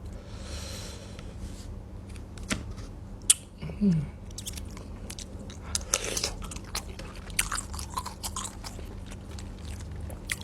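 Someone eating soi ju, a Thai raw beef dish, chews up close with soft, wet crunching and smacking, plus scattered clicks and faint handling noises, with no clear talk.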